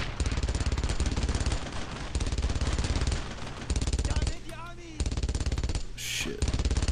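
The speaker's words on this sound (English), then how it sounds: "There's a machine gun over there." Machine gun fire in the World War II shooter Brothers in Arms rattles out in loud, rapid, sustained bursts separated by short gaps, with other battle noise between them.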